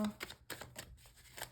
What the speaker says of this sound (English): I'll do one more shuffle.